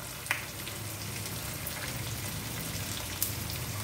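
Green beans frying in oil in a pan while cooking Andhra-style beans fry curry; a steady, moderate sizzle with a couple of sharp pops, no talk.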